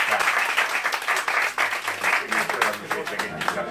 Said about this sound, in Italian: incoraggiateli con un applauso